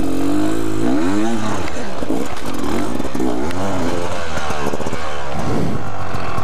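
A dirt bike engine revs hard while riding over rocky trails in Hawaii, loud and close, its pitch rising and falling through throttle changes with clattering rattles throughout.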